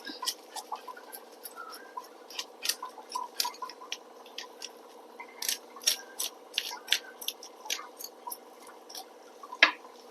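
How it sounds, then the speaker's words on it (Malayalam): Water drips into a water filter in an indoor kitchen, a run of small, irregular, close plinks and splashes spread across the whole stretch, one sharper drop near the end, no talking. "ഫിൽറ്ററിൽ വെള്ളമാവുന്നുണ്ട് ഇവിടെ കണ്ട്"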